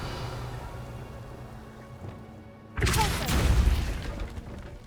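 The Revelio spell from the Hogwarts Legacy video game bursts in suddenly after a quiet ambient stretch. It is a loud, rumbling, shimmering surge that swells and lingers for about two seconds, with no talk.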